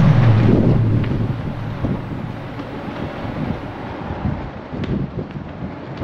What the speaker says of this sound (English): Medyo windy guys, windy.